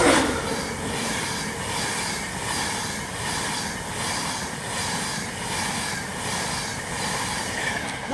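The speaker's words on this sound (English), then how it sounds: "Nice toot from the driver there on the LNER." An LNER electric train speeds past Northallerton station at night, a steady loud rolling roar with rhythmic wheel and rail clatter throughout; no distinct horn note stands out.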